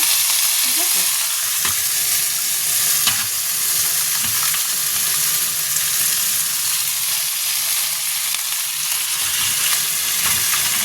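Mutton being stir-fried into a kasha, with small splashes of water added bit by bit, gives a steady, loud sizzle throughout, with scattered scraping stirs of the pan.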